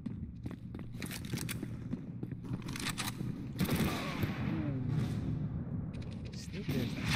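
Rapid video game gunfire from Counter-Strike: Global Offensive crackles in bursts across the scene, mixed with game effects while players chat over it.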